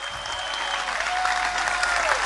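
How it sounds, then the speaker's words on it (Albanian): Loud, sustained applause from a large crowd packed into the square in front of the town hall in Shkodër, a dense steady clatter of clapping with no voices standing out. "Si fillim du një duartrokitje shumë të madhe për ju që e keni mu sheshin para bashkisë sot"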